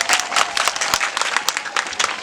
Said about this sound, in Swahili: Pigeni makofi tafadhali.